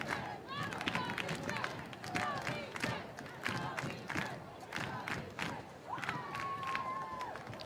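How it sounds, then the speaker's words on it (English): A crowd in the stands chants for coach Robbie Church at a Boston College vs Duke women's soccer match, a rhythmic roar that rises and falls with clapping mixed in while a commentator talks over it. "Robbie Church chant has started in the crowd."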